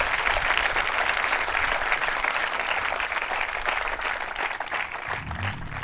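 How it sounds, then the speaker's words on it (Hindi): An audience of a college quiz show at a government women's engineering college in Ajmer claps loudly and continuously, a dense wash of applause that fades slightly near the end. "तालियां जोरों से बजाइए आप उनके लिए"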